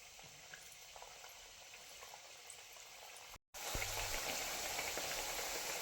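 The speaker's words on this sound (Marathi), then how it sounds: "आता मी सगळा सोडून घेणार आहे तेलामध्ये" Kapanya dough snacks fry in hot oil, giving a soft, steady bubbling sizzle that cuts out briefly, then returns louder and brighter as more pieces go in.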